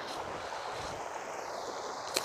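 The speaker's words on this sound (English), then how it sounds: "Nice little river here." A small river in Colorado near the New Mexico border flows past in a steady, soft rushing wash, faint and continuous, with a brief knock near the end.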